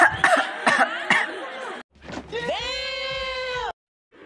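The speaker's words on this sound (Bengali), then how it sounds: "একজন লোক কাশি দিচ্ছে" A man coughs in a few harsh, rapid bursts close by, followed after a brief pause by a long strained, bleating-like vocal sound before cutting to silence.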